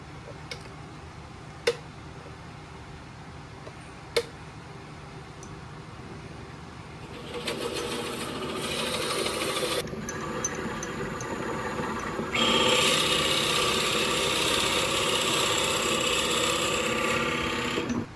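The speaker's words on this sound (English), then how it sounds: "we're going to drill a hole" A few sharp clicks, then a power drill bores a 1-inch hole through a wood blank in two sustained runs with a brief pause between, fairly loud and close.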